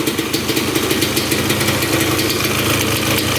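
A 2-stroke quad's engine idles steadily nearby, a loud, rapid, even buzzing putter with no talking over it.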